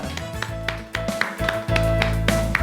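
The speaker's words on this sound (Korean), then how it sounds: "우리 하나님께 감사의 박수 드리겠습니다" A church congregation claps along in a steady rhythm during a Sunday worship service, the sharp hand claps ringing out over sustained keyboard chords.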